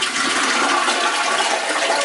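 A toilet in a Tokyo apartment flushes, a steady loud rush of water running close by for the whole stretch, with no talk over it.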